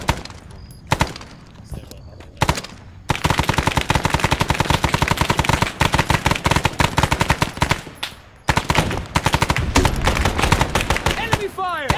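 Enemy gunfire rattles in the ArmA military game, loud bursts of rapid automatic fire and single shots coming thick and close, with brief pauses before the fusillade resumes, while voices shout over it.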